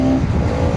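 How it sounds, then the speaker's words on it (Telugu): A Bajaj Pulsar NS200 motorcycle accelerates hard from fourth gear, its engine note loud, close and steady for under a second. "మళ్ళీ ఒకసారి చిన్న డ్రాగ్ ఇద్దాం 4th గేర్ నుంచి."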